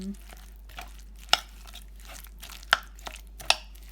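A spoon stirs sweet corn fritter batter with garlic and pepper in a bowl, giving soft scraping swishes and a few sharp clinks against the bowl, quiet and close, with no talking.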